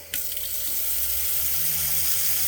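A boat's faucet turned on, then water running steadily and strongly into a sink, a continuous close hiss with no talk.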